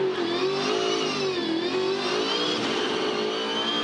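A Supercars V8 race car at the Sydney 500 accelerates hard off the line in second gear with wheel spin, a loud, sustained, rising engine roar with a slight dip and recovery in pitch, close and continuous.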